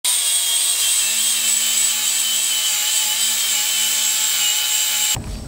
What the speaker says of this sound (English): I'm going to go ahead and grind this down.